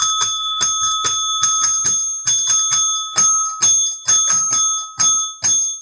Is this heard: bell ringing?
yes